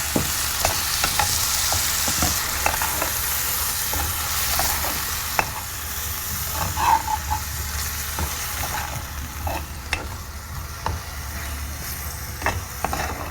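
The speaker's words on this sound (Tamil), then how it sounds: "ஸோ இப்போது நமக்கு தக்காளி வதங்கணும்." Tomatoes sautéing in a pan for shrimp pasta: a steady soft sizzle with frequent sharp clicks and scrapes of a spoon stirring, close by and without talk.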